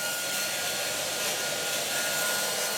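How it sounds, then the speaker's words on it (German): A handheld hair dryer blows steadily and loudly as a makeup artist speeds the setting of layered silicone on a prosthetic head, a continuous close whoosh with no talk. "Damit die vielen Silikonschichten schneller abbinden, greift der Maskenbildner wieder zum Föhn."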